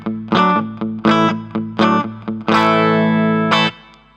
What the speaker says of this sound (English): we can just dial in a little bit of reverb to have a little bit of flavor